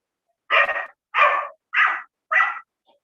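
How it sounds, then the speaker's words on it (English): Four loud barks from a dog, evenly spaced about half a second apart with a faint trailing yelp, sounding close and alone with no talk over them. "you might be hearing some dogs in the back."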